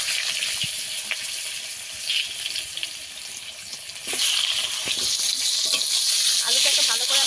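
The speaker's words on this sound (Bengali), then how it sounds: "আলুটাকে ভালো করে আমি ভেজে নেব।" Long-cut potato strips fry in oil in a pan, a steady broadband sizzle that runs throughout and grows louder and denser in the last few seconds, with faint scrapes of stirring and no speech.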